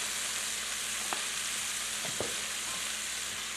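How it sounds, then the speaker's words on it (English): Alligator meat fries in a little ghee with salt, giving a loud, even, close sizzle throughout, with a couple of faint stirring taps. "Now I'm just going to fry that up in a little bit of ghee"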